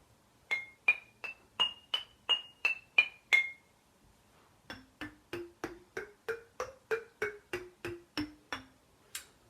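Homemade Figurenotes chime bars made from glass bottles and jars are tapped in quick even runs, first a bright high set of about eight ringing clinks, then a longer lower sequence of some fourteen notes stepping in pitch, alone and close.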